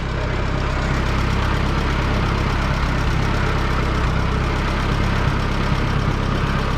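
A steady, rumbling Oliver Super 55 tractor engine runs continuously, a low throbbing idle with a constant mechanical chug and no voices.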